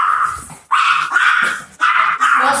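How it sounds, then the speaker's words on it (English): A dog barks in close, loud bursts, three or four sharp barks and yips with short pauses between them, indoors near a doorway on a hot day. "She doesn't bite. She barks."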